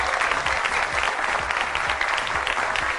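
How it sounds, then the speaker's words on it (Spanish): A studio audience at a Peruvian Saturday television variety show claps steadily, a thick, even burst of applause filling the room without pause and with no voices over it. "El aplauso para ustedes."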